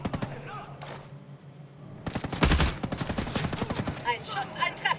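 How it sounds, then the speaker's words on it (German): Video game gunfire in a first-person shooter: after a quiet stretch, a loud close burst of rapid automatic shots, a heavy impact and further scattered shots, with someone talking at times. "Ein Schuss, ein Treffer."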